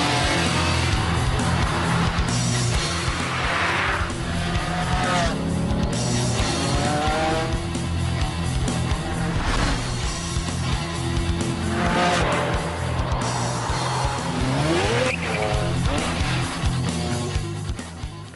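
A Ferrari Enzo and a McLaren F1 race hard, their loud engines roaring and changing pitch through gear shifts while tires squeal repeatedly through corners, nonstop and close.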